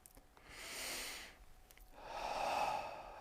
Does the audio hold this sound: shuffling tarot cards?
no